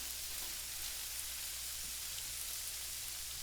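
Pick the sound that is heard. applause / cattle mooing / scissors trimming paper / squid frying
squid frying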